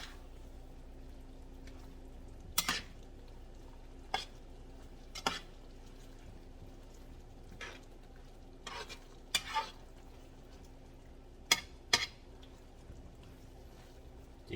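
Cambodian sauce is stirred in a pot with the heat off, sparse scraping clinks of a utensil against the pot at irregular intervals over a quiet background hiss.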